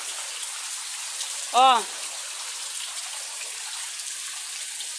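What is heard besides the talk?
heavy rain falling during a flood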